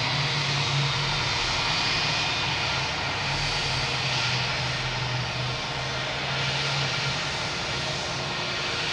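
A British Airways jet airliner coming in to land at Boston Logan Airport, arriving from London Heathrow, makes a loud, steady roar with a low engine drone that holds constant throughout, with no talk.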